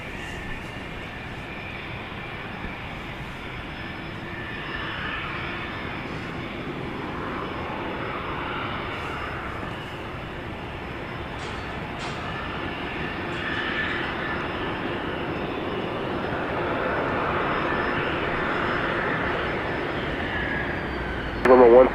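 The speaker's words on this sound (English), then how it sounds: "737-800 is there." A Boeing 737-800 jet at Dallas Love Field sends out a steady, distant engine roar that swells gradually across the whole stretch, with a brief louder bump at the very end.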